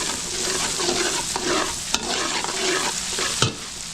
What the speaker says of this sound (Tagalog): So masarap dito yung gisang-gisa yung bawang sibuyas natin tsaka yung kamatis tsaka yung luya.